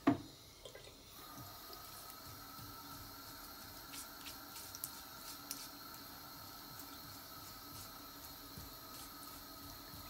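Water drains from a sink after a paintbrush is washed, a low steady gurgle with small drips and splashes, fairly quiet and unbroken, with no talk.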